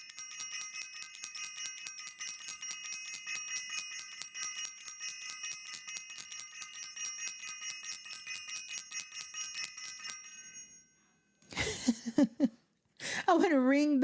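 A small bell rings in fast, steady repeated strikes with a bright metallic ring, then stops, and a voice speaks briefly afterward.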